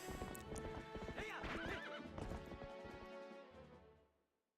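A horse in Zelda: Twilight Princess whinnies loudly while hooves clop in quick rhythm, the neigh rising and wavering before the sound fades out at the end.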